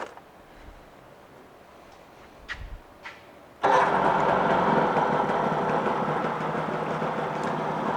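A 1989 Johnson 40hp two-stroke tiller outboard boat motor starts after a quiet stretch with a few faint knocks, then catches abruptly and settles into a loud, steady, buzzing idle close by.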